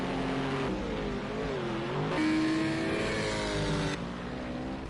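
A GT4 race car engine laps Brands Hatch GP in a racing game, a loud steady whine that climbs and drops with gear changes, heard continuously up close.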